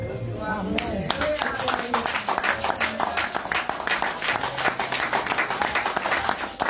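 A church congregation breaks into applause during a sermon, a sustained wash of many hands clapping with crowd noise and voices mixed in, steady and fairly loud throughout.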